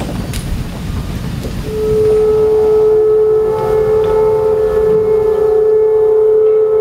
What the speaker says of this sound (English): Please rise for the siren, which opens our Memorial Day ceremony, Yom HaZikaron.